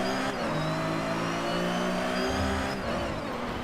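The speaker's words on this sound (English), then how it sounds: "Check out these engine sounds." Race cars in the DriveClub video game roar with sustained, high-revving engines, the pitch climbing and holding with a dip near the end, loud and continuous with no speech.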